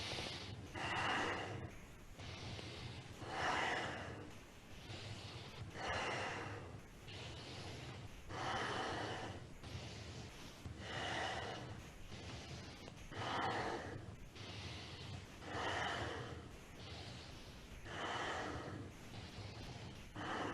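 Deep, rhythmic breathing during a Kundalini yoga kriya: about eight slow inhale-exhale cycles, evenly spaced, close to the microphone and quiet, with no talking.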